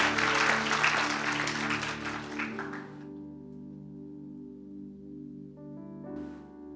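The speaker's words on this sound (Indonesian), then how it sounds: "Tepuk tangan paling meriah buat Tuhan Yesus." A church congregation at a worship service claps loudly for about three seconds, then the applause fades out and a sustained musical tone carries on alone.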